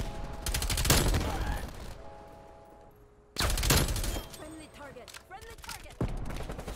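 Bursts of rapid automatic fire from an LC10 submachine gun in Black Ops Cold War, loud and close, in two long volleys with quieter game sounds and a voice between them.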